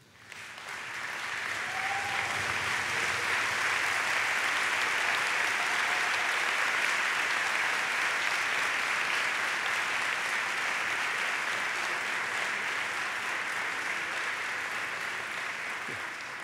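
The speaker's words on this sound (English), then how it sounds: "give a wonderful standing ovation applause to your parents" A commencement crowd gives a standing ovation to graduates' parents, with sustained broad applause from a large audience rising within the first second and staying full and steady throughout, fading only slightly near the end.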